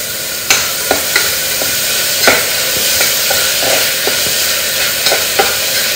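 Tomato, green chili and coriander leaves frying in a pan, a loud close sizzle punctuated by repeated sharp spatula taps and scrapes at an uneven rhythm.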